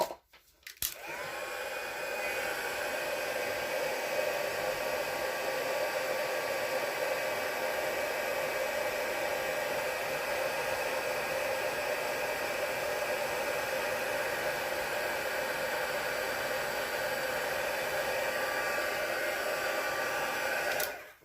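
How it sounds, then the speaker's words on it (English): A heat gun blows steadily for about twenty seconds while melting copper embossing powder, a loud, even hissing roar that starts abruptly and holds without a break, with no voices. "Right, so just heat emboss this,"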